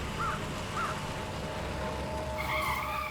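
A car brakes hard to a stop in a TV crime-drama chase, its tires squealing and skidding loudly near the end over a steady engine rumble and background noise.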